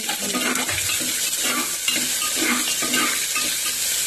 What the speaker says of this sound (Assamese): পিঁয়াজটো অলপ ৰঙচুৱা হোৱালৈকে ভাজি ল'ম